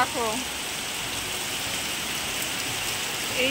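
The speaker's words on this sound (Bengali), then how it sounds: "তো দেখো প্রচুর বৃষ্টি হচ্ছে" Heavy rain pours down outside a village house, a dense steady hiss that fills the scene from start to finish, with a brief faint voice-like sound at the very beginning.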